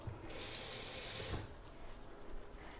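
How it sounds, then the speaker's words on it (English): Water runs from a kitchen tap into a pot of Creole shrimp with tomatoes, a steady loud hiss for about a second before cutting off, leaving a faint background rumble. "I want to go with water because I've already added enough seasonings in here."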